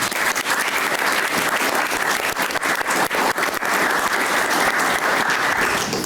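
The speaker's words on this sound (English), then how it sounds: "if we could get a round of applause for those volunteers" Sustained applause from the audience at a city council meeting, dense and loud clapping holding steady for several seconds with no talking over it.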